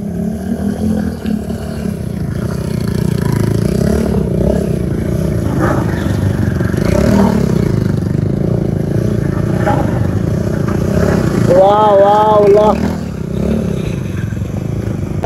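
A stunt motorcycle engine during riding practice, a loud continuous drone close by with rising and falling revs and a brief whining pitch sweep near the end.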